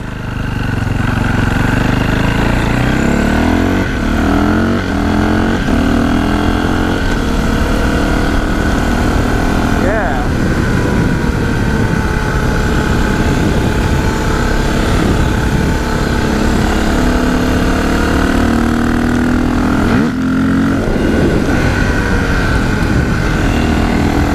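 A KTM 525 motorcycle engine idles while warming up, a steady, loud, continuous drone with a constant low rumble and slight fluctuations throughout, with no one talking.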